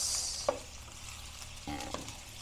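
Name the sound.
tomatoes added to sautéing garlic and onion, frying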